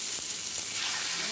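Fish frying in a pan with mint, giving a steady broadband sizzle that is loud and continuous throughout, with no talking.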